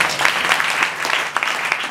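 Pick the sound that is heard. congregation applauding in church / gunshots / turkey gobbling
congregation applauding in church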